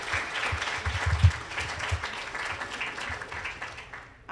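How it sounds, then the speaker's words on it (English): Applause for a panel at a national conference: a moderate, sustained round of clapping from a seated audience, with a few louder claps near the start, fading away at the end. "Let's give another round of applause for the panel."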